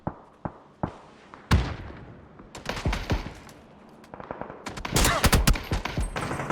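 Rapid bursts of gunfire in the battle royale game PUBG during a pro scrim, with sharp single shots giving way to loud overlapping volleys and fast automatic strings, no talk over them.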